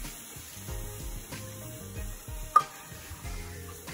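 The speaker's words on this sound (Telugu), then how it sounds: "యాడ్ చేసుకుని లంప్స్ లేకుండా ఇలాగా కలుపుతూ ఉండాలి." Milk being stirred into a white sauce for pasta in a pan, a soft steady sizzle and gentle scraping with one sharp clink near the middle, no talk.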